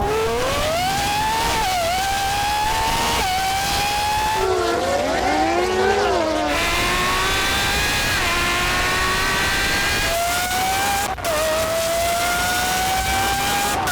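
Video-game Ferrari and other race cars in Driving Empire roar loudly and continuously, engines rising and falling in pitch through repeated gear shifts, with a brief screeching skid mid-race.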